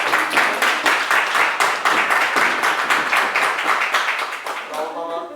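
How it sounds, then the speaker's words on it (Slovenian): An indoor crowd claps steadily for about five seconds, dense fast applause close and loud at a cycling event gathering, thinning out at the end as a voice comes in. "Zdaj prosim za en aplavz."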